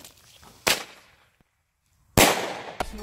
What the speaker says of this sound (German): Oh, noch ein Flashbang.